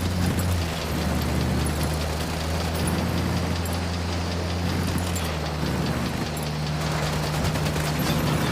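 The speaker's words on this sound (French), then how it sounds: "Des coups de feu" Dense, continuous bursts of gunfire crackle throughout over a low engine-like drone, loud and sustained with slight dips midway, in the video game Ghost Recon Wildlands.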